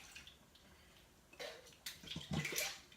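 Coconut milk poured into a pot of Indian lentil soup, a soft liquid splash and trickle that swells over the last second and a half, close and fairly clear, with no talk.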